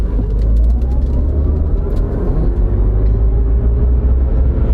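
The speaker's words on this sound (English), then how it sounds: "Now there's nobody behind us, so let's step on the gas." A heavy 8,800-pound pickup truck accelerates hard, giving a loud, steady, close engine rumble with road noise throughout.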